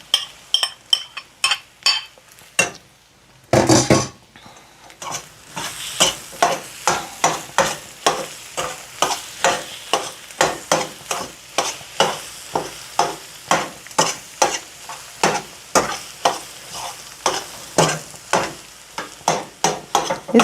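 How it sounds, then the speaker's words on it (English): Spinach being folded into eggs frying in a pan: a faint sizzle under a long run of regular scraping and tapping strokes from a utensil against the pan, close and with no one talking. "I'm just gonna fold in the spinach."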